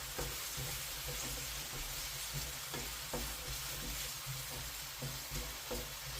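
Chopped garlic frying in a pan on medium heat, a steady bright sizzle with occasional soft stirring scrapes, continuous and fairly close, no voices.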